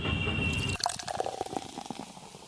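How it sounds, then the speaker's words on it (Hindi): Water pours into a bottle with a steady hissing stream, then gives way to nearby irregular drips, splashes and gurgles, with no one speaking. "लगभग मेरा पानी बोतल में भरा रहा है।"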